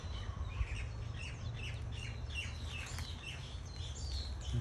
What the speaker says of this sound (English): There's a bird song.